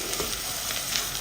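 Spice powders stirred as they fry in a hot pan, giving a steady, close sizzle with soft scraping strokes running throughout, no voices.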